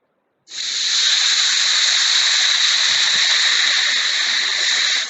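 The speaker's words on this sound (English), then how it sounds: "We're going to go ahead and add our water." Water poured from a container into a pot of meat for Civil War ration cooking, a steady bright hissing pour that starts abruptly and runs unbroken at close range.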